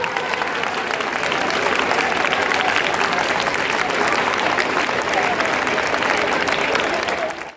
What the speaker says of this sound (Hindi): बाइबल ताली बजाओ